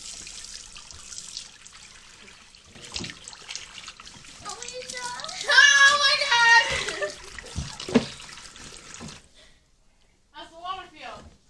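Water sprays from a faucet during a Jenga challenge game, a steady hiss running for several seconds beneath loud shouting and exclaiming voices before cutting off, with more voices after.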